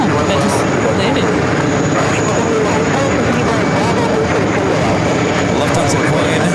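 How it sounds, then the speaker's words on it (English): A Lufthansa Boeing 747-400 airliner in old livery rumbles steadily past at JFK airport, a loud, constant broadband engine roar filling the whole stretch with no clear rise or fade. "Lufthansa plane"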